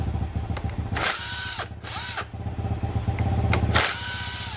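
A power tool unscrews clutch plate bolts on a Yamaha Vega R motorcycle, with short whirring bursts in quick succession, loud and close, over a steady low hum.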